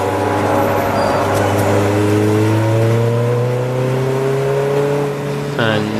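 A Type R hot hatch race car corners on the Silverstone GP circuit, its loud engine note sliding steadily downward as it holds a constant drone, with a brief change in tone near the end.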